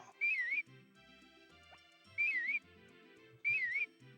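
Dog whistle from the Harvest Moon video game: three short, clear, warbling whistle notes, evenly spaced about a second and a half apart, sounding over soft game music with no talking.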